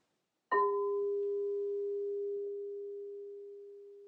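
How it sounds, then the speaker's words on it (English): A single struck bowl rings out with a clear, pure sustained tone that hangs steadily and slowly decays, alone in silence. "crystal bowl or Tibetan bowl will vibrate to a specific tone or sound"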